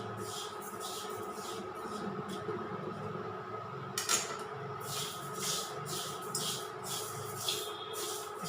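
Flaxseeds roast in a pan with a steady low hiss and rustle, as repeated light scraping and shuffling strokes stir them evenly.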